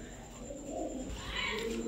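A pair of gorra putul pigeons cooing softly and steadily at close range, a low rolling coo over faint room noise with no talk.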